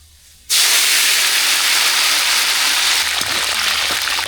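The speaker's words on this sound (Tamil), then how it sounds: "நல்லா சூடாகிட்டு இப்போ கடுகு சேர்த்துக்கலாம் இது கூட கருவேப்பிலை சேர்த்துக்கலாம்" Mustard seeds and curry leaves hitting hot oil for a raw banana fry, a sudden loud burst of sizzling hiss that holds steady and close, with faint crackles and pops near the end.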